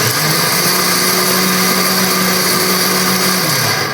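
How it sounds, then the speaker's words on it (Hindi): A kitchen mixer grinder whirs steadily and loudly throughout, a continuous high-pitched motor drone with no pauses. "मिक्सी में पीस ले, मिक्सी में बना लिया कर"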